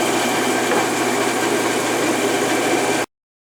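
A Rockwell Delta 14-inch band saw with a 1/4-inch blade runs steadily and loud, a continuous broadband motor and blade whir with no talk, cutting off abruptly near the end.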